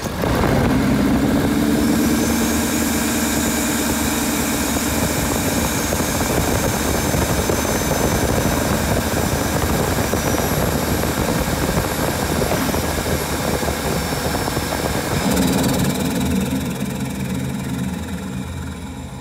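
2020 Ford Powerstroke diesel with a No Limit air intake, running as a steady, loud engine roar and whine for about nineteen seconds, with a brief shift in tone near the end.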